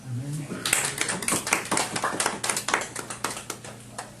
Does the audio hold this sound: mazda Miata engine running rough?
no